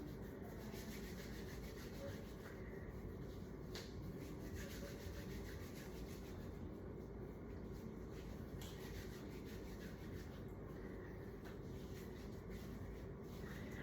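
Hands rub together during handwashing for a sterile procedure, a steady soft continuous friction swish with faint water in the background, close and quiet, without any talking.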